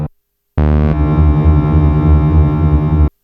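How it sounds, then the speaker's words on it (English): A Behringer TD3-MO synth sounds a sustained, loud bass line through a guitar pedal set to vibrato, its tone wavering steadily for about two and a half seconds before stopping abruptly. "Vibrato"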